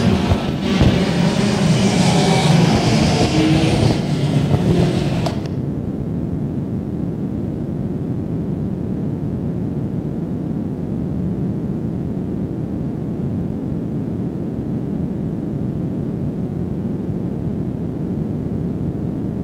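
Race cars roar off at the start of a 25-lap main event, a loud, dense engine blast for about five seconds that drops to a steady, lower rumble of cars running on the track.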